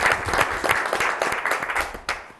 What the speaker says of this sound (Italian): E facciamo anche un bel applauso.